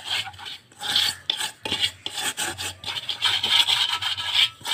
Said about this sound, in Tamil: இப்போ வறுத்து வச்ச ரவையை இதில் கொட்டிக்கணும்.